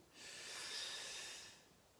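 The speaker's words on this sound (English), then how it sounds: "Breathing deep" A single deep, slow breath drawn audibly through the nose during a morning leg movement exercise, close and soft, with no talking.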